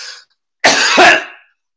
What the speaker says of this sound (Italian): Dato un colpo di tosse.